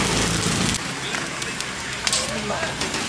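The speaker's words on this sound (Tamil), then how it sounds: "நல்லா கொதிக்குது" A 200 kg drum of biryani boils hard over the fire, a steady loud roaring hiss that fills the whole stretch, with voices faintly mixed in.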